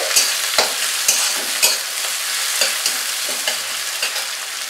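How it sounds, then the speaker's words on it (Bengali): Chopped onions fry over medium heat in a pan, a loud steady sizzle with sharp spatula strokes clacking against the pan at irregular intervals. "পেঁয়াজটাকে মাঝারি আঁচে ফ্রাই করব"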